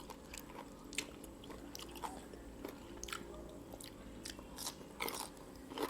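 Crunchy bites and chewing of fried chicken wings with fish sauce eaten with papaya salad: sharp, close crackling crunches that repeat in an irregular rhythm, quiet and alone with no talk.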